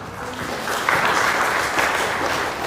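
Church congregation clapping during a Sunday sermon, a full, even round of applause that swells slightly midway and continues throughout.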